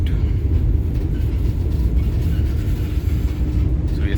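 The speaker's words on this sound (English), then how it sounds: "Right now we are crossing the Barsem tunnel, which is the longest tunnel in Goa state." A Vande Bharat Express train runs through the Barsem tunnel in Goa, heard from inside as a loud, continuous low rumble and roar of wheels and carriage noise that fills the space without break and with no talk.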